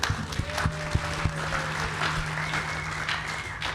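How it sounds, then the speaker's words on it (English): Audience clapping at an aviation association gathering on airport support, a steady patter of many hands with a few sharper claps near the start, fairly close and continuing without speech. "So give yourself a round of applause for celebrating aviation."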